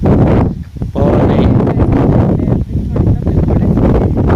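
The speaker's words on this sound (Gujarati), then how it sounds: "પવન કેવો નીકળ્યો છે? પવન આ મસ્ત નો છે." Strong wind buffeting an outdoor microphone in rural Gujarat, a loud continuous roar with brief lulls and gusting swells, broad noise dominating throughout.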